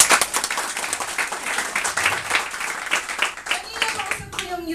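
Audience applause at a Filipino network-marketing seminar, a steady broadband wash of clapping lasting the whole stretch, with talking and voices mixed in underneath.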